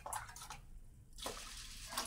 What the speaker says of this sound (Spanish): remojamos nuestro arroz con agua